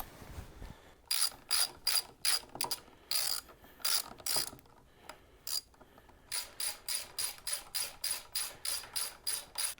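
A ratchet clicks in quick, close bursts as it snugs down the fork clamp bolts on a Harley-Davidson Sportster or Dyna motorcycle, with short pauses between the strokes and a long, rhythmic run of clicks near the end.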